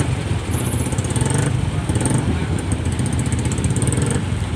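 Motorcycles riding off a ferry as the ramp door opens, several engines idling and revving in a cluttered, echoing space, with overlapping engine rumble and brief higher mechanical tones.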